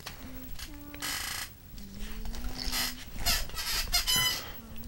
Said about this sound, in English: Okay, I'm sorry about the squeaking.